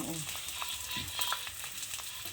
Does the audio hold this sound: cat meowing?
no